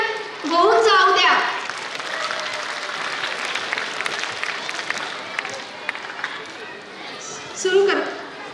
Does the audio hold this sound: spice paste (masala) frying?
no